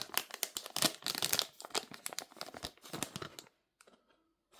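Close, busy crinkling and tearing as a plastic blind bag of Brawl Stars figures, original Line Friends merch, is ripped open, with rapid rustles that stop suddenly and end in a few faint crinkles.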